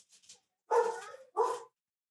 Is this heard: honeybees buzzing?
no